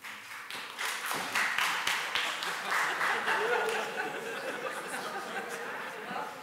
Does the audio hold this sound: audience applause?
yes